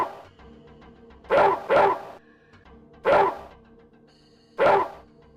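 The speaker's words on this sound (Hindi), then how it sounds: "कुत्ता जोर जोर से भौंकने लगा।" A dog barks loudly and close by, four sharp barks in an uneven rhythm with a quiet pause between the last two.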